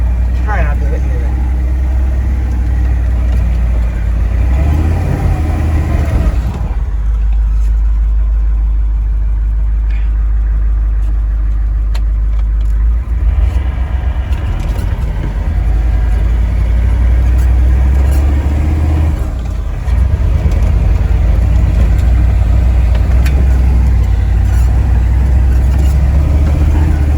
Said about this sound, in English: Truck continues